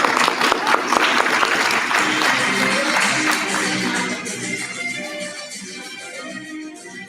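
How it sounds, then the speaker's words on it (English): Audience applause at an anime court panel at the Huntsville Pop Culture Expo 2023, a loud burst of many hands clapping that gradually tapers off over several seconds in an indoor hall. "clap it up for James."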